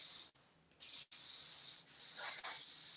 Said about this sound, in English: we will add a little bit of hairspray to the look.